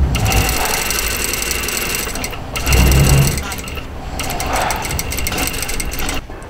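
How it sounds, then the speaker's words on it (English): A sewing machine stitches a puffed blouse sleeve into the armhole, running just beside the stitch line. A close, continuous mechanical whir and clatter carries on with a short pause partway through, then stops just before the end. "So we're stitching on the other side of the stitch line now."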